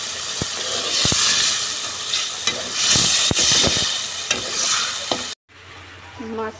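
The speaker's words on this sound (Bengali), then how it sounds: "মাছটা কষে নিয়ে মাছ তুলে রেখে দিব এটা" Fish frying in a pan gives a continuous close sizzle broken by sharp scraping and tapping strokes of a spatula, cutting off abruptly near the end into a quieter hum.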